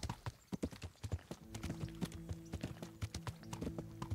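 A horse's hooves clip-clop in a steady, fairly quick rhythm as it is ridden in the video game Kingdom Come: Deliverance, with a tonal musical layer joining partway through, all at a fairly soft level.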